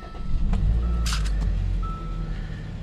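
A 2014 Hyundai Santa Fe Sport starts up nearby, with a brief burst of cranking as the engine catches, then a steady low idle rumble.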